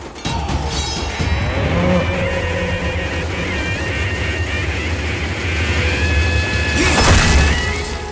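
A water buffalo brought to a village goddess ceremony for sacrifice, amid a crowd, with a continuous rumbling din of people and bellowing cattle, a sharper burst rising near the end.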